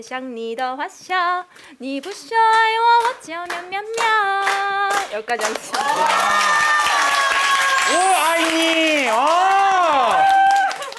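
Students clap at a middle school event, Deokhwa Middle School, while loud voices shout and sing over it; the clapping is close and mixed with cheering, then fills out into steady noise toward the end.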